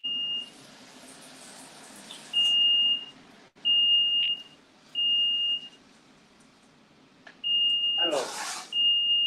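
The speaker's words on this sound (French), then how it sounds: "pratique les détecteurs de fumée quand on fait la cuisine" Smoke detector sounding repeated loud, steady high-pitched beeps in bursts of a second or more while caramel cooks on the stove; a person speaks briefly over a low kitchen background.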